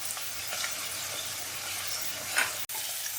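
Onions and methi leaves frying in a pan, a close steady sizzle with faint stirring scrapes and one sharp brief click near the end, no talking.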